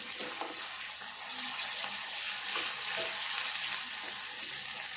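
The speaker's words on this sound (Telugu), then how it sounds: "ఈ ఉల్లిపాయ ఇట్లా వేగినాక అల్లం వెల్లుల్లి పేస్ట్ వేసుకోవాలి. ఇది కూడా కొద్దిసేపు వేగాలి." Ginger garlic paste frying with onions in a pan for a Telangana potato curry, a soft continuous sizzle and hiss with occasional stirring scrapes, fairly quiet and steady, no talking.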